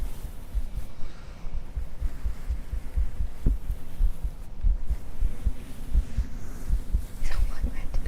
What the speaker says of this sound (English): I'm doing heartbeats